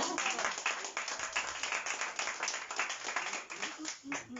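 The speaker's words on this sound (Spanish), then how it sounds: "Dale un aplauso, Señor." A church congregation claps and applauds during a sermon, dense quick clapping that carries on steadily for several seconds at moderate distance.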